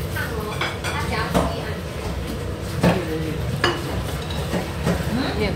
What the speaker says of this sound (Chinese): 慢慢的油炸，记得在油炸的时候呢锅很烫哦